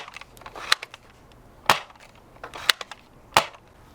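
A Nerf DinoSquad Tricera-Blast blaster fires foam darts in four sharp, separate pops spaced roughly a second apart. Each shot is loud and close, with no voices over them.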